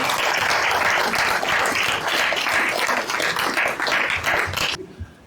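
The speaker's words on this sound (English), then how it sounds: "give yourselves a big round of applause" A crowd applauding steadily, dense clapping sustained for several seconds before cutting off abruptly near the end.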